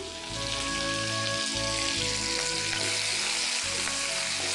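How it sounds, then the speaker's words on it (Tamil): Onions sauté in a pan for sambar with a loud, steady frying hiss and crackle, and a low background hum runs underneath. "இந்த வெங்காயம் நல்லா இங்கே வதங்கிட்டு வருது."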